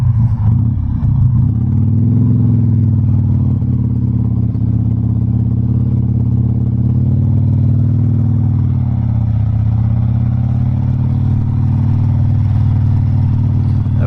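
A 2004 Harley-Davidson Sportster 1200 Custom motorcycle engine runs steadily with a deep, loud rumble as the throttle is rolled off while riding, the pitch sagging gently midway, with no talk over it.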